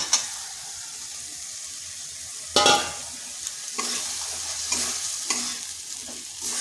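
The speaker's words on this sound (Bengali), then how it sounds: "এটা কষানো হয়ে গেছে, দিয়ে দিচ্ছি এই কচুগুলো।" Pieces of taro drop into a pan of spices frying in oil, giving a sharp loud sizzle. Scraping stirs and clinks follow, and the frying keeps crackling steadily underneath them.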